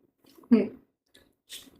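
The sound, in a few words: chewing while tasting mustard hilsa fish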